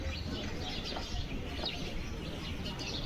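Pigeons in a loft of about a hundred birds in Chikhli, Maharashtra, give low, steady cooing that overlaps into a continuous soft rumble, with faint chirps and rustles throughout and no talking.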